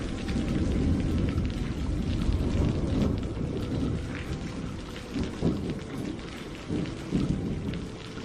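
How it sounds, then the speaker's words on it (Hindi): Heavy rain pours down steadily under rolling thunder, with several deep rumbles swelling through the dense roar of falling water on a dark moonless night. "बारिश अब और भी तेज होती जा रही थी।"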